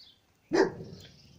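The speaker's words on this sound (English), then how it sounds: "the dog's just warning people" A dog gives one sharp, loud warning bark close by, and a brief fading tail follows before silence.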